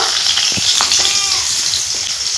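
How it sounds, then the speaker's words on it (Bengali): Chopped onion frying in hot oil with dried red chilies, whole cumin and bay leaf: a loud, steady, close sizzle with a few faint stirring knocks, no voices. "দুটো শুকনো লঙ্কা গোটা জিরে তেজপাতা পেঁয়াজ কুচি পেঁয়াজটা একটু লাল করে ভেজে নিব"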